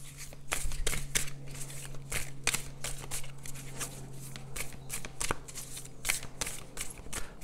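A deck of oracle cards being shuffled by hand, with rapid riffling and flicking bursts that repeat steadily over a faint low hum, close and fairly loud, with no talking.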